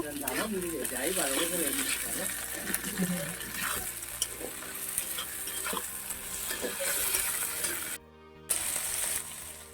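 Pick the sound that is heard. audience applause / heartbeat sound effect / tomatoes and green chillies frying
tomatoes and green chillies frying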